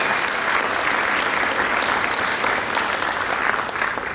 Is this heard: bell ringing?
no